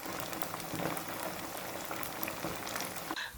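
Otak-otak mackerel fish cakes sizzling in oil in a pan, a steady dense crackle and bubbling that runs throughout, close and fairly loud with no talking.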